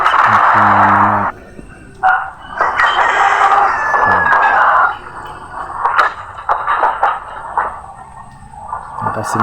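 Roosters and hens at a cockfighting gathering, with loud nearby crows and clucks in several bursts while people talk throughout.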